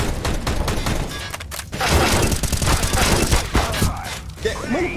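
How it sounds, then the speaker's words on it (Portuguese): Rapid bursts of gunfire in a shooter video game, dense rattling volleys up close with a brief pause, loud and continuous over faint background. "o cara tá atirando em mim"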